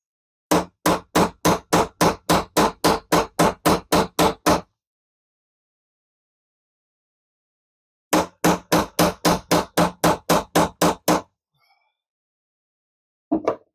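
A big hammer punches out parts on a Caterpillar D2 cylinder head in two steady bursts of rapid, evenly spaced metallic strikes with a pause between them, close and loud, followed by one last lone hit.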